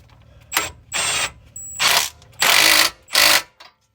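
Ratchet wrench tightening a suspension bolt during an air suspension install on an Infiniti Q60, five distinct clicking strokes in a steady rhythm, close and fairly loud with short gaps between pulls.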